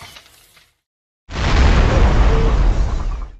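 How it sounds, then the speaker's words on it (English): A gas pipeline struck by a laborer explodes and levels a house, a sudden loud roaring blast after a moment of silence, sustaining a dense rumbling wall of noise for about two seconds. "a contracted laborer struck a hidden gas pipeline, triggering an earth-shattering explosion"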